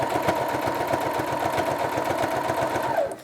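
A sewing machine runs steadily and close, its rapid rhythmic needle hum sewing fabric into an armhole for about three seconds before winding down and stopping.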